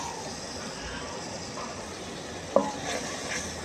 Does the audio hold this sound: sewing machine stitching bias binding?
no